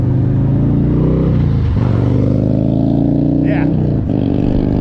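Philiam FX1 electric motorbike running at full throttle on one motor, a loud continuous whine with shifting pitch mixed with wind rush and road noise, close, with a voice talking over it.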